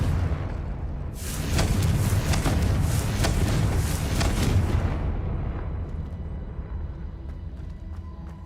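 A Confringo fire spell blasting in the video game Hogwarts Legacy, a loud roaring explosion with crackling bursts that lasts about four seconds, then fades into a quieter rumbling tail, with no speech.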